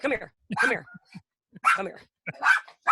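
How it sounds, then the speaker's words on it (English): A dog barks in short bursts close by, several sharp yips and barks broken up by brief pauses, with a little whimpering between them, heard indoors. "What is she barking at?"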